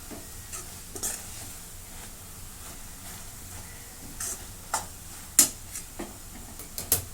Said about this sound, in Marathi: आता पुन्हा त्यांना परतून घेते आणि अशी चमच्याने मॅश करून घेते